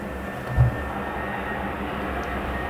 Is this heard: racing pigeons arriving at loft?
no